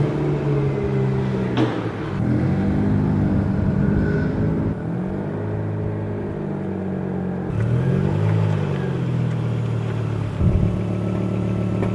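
A Volvo 850 engine hums while the car is driven slowly around private property, a steady mid-pitched drone rising and falling with throttle and gear changes, close and fairly loud without talk.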